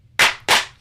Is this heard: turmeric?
no